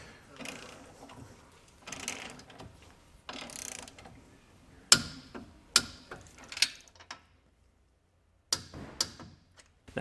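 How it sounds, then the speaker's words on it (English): A socket wrench on a 19mm socket torques bolts on a Roadmaster base plate, giving bursts of close ratcheting clicks and sharp metallic knocks with brief pauses between. "We'll go ahead and torque these bolts to the specifications outlined in the installation manual. I have a 19mm socket"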